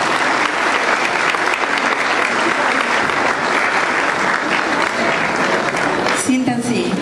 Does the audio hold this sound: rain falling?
no